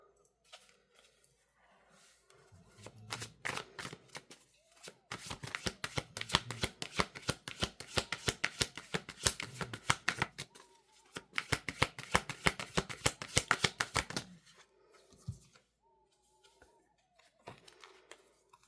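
Tarot cards shuffled close by in rapid, dense riffling bursts, one long run followed by another, with quiet pauses between and faint low sounds behind.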